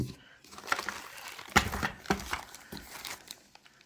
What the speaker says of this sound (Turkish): Şimdi kutu açılımı yapalım bakalım ne var içinde.